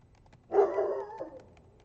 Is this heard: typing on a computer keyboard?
no